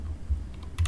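A short burst of computer keyboard typing while a firewall rule is entered, a few soft key clacks close by in a quiet room.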